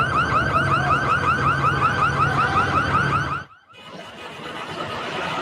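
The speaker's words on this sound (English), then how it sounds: "You can hear the alarms going off as a crowd of people broke into a jewelry store on 6th and Broadway just before" Alarms blaring at a looted jewelry store on 6th and Broadway during the LA riots: a loud, rapidly repeating electronic whooping tone that cuts out abruptly near the end, leaving quieter street noise.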